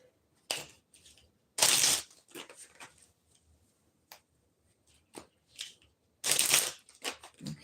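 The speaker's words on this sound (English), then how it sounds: "So let's get a card to close this out from the Spirit Secrets messages." Oracle cards from a Spirit Secrets messages deck are shuffled in brief, close bursts of riffling and snapping card sounds, separated by near silence, with no talking.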